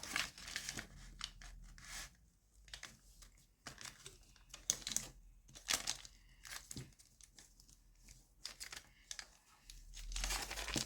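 Colored origami paper being folded and creased by hand, with soft crinkling, rustling and sharp creasing scrapes in irregular bursts, close and fairly quiet, with no talking.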